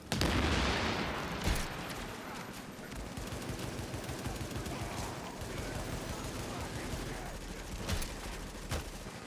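Heavy machine gun fire rattles in sustained bursts during a firefight in the video game The Division, a dense continuous clatter with occasional louder shots and a faint voice underneath.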